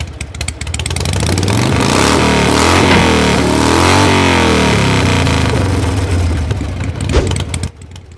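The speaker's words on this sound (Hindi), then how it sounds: "बाइक बाहर खड़ी करो" A motorcycle arriving at a house, its engine loud and close, revving and rising in pitch, then settling before a final burst and cut-off.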